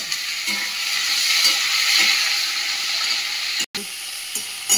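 Tomato and green chilli stirred into frying onion in a pan, a bright steady sizzle with occasional spatula strokes, close and loud, briefly cut off near the end before resuming.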